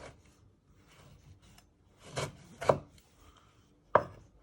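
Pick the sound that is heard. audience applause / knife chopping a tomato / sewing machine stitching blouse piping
knife chopping a tomato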